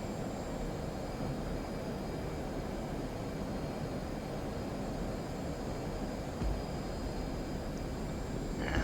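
Steady roar of an F/A-18C Hornet at full throttle on a supercarrier catapult in the DCS flight game, a broad continuous engine rumble with no clear launch surge.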